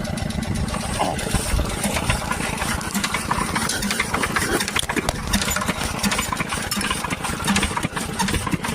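A small water pump engine, started by hand crank, chugs loudly and steadily at a constant idle, its rapid putter continuing throughout with no voices.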